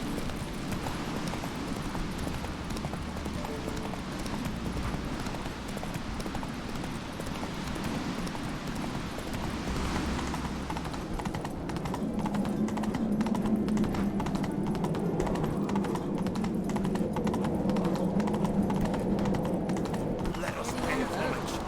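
Roach, a horse in The Witcher 3, clip-clops at a steady trot through a game scene, hoofbeats fairly close and continuous beneath ambient sound, with people talking over much of it.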